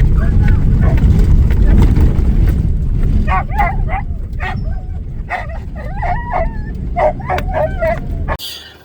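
Boar-hunting dogs bark in short yips and whimper in eager bursts close by, over a rumbling engine that drops away near the end.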